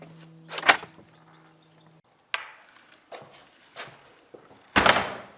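The old doors of an unspoilt 12th century church open with a series of heavy wooden knocks, creaks and thuds, spaced irregularly and close, ending in a loud bang.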